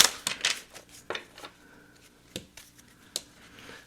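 Tarot cards being shuffled by hand give off a quiet series of short, crisp riffling snaps and flicks, irregularly spaced, close by and with no voices.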